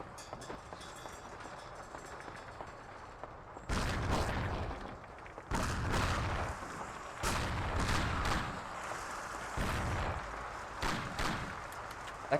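Gunfire in the video game Mafia: The City of Lost Heaven during a barn shootout: loud, close bursts of shots in irregular clusters, some rapid and overlapping, separated by brief quieter gaps, with no talk.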